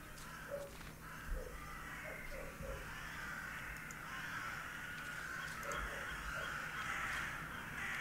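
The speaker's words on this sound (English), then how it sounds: "I hear crows." Crows caw repeatedly in the video game The Last Door, faint and somewhat distant, in short scattered bursts over a steady ambient drone.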